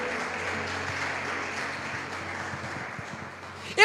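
A church congregation at a worship conference applauds, producing steady, dense clapping throughout that stays moderately loud and fairly even, ending with a brief louder burst.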